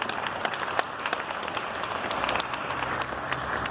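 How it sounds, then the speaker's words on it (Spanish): Moderate audience applause after a presentation at a conference on femicide, a soft continuous patter with scattered sharper claps, fairly distant and steady. "Un aplauso por la presentación"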